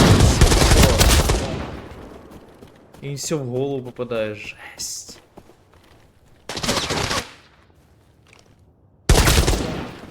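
Gunfire in the video game Arena Breakout: Infinite, loud rapid bursts of automatic fire at the start and in later clusters, with someone talking between the shots.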